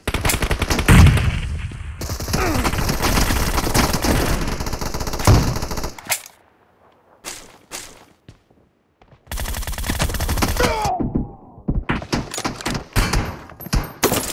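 Bursts of PUBG video game gunfire, rapid automatic volleys and single shots crackling loudly, broken by short quiet gaps before the shooting resumes.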